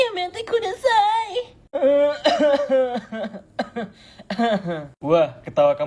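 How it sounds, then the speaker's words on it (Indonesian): A person coughs repeatedly in a theatrical way, with voiced moaning and wailing tones between the coughs, close and loud throughout. "Itu batuk apa asma?"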